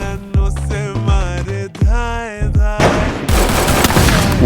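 Gunfire from enemy players in the Free Fire battle game comes in rapid bursts and sharp cracks, mixed with in-game music and effects, growing into a dense continuous barrage toward the end.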